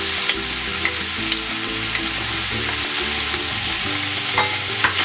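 Mussels frying in a pan as oyster sauce is added, giving a steady, close sizzle broken by occasional stirring clicks and scrapes.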